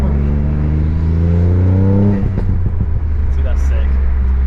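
A Ford Fiesta ST2 engine with a loud exhaust revs up, its rising drone climbing and then settling into a steady rumble. Voices talk over it.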